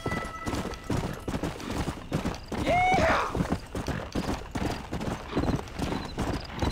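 Horse hooves clip-clop at a steady walking rhythm in the Red Dead Redemption video game, with one brief neigh rising midway, heard fairly close amid ambient game sound.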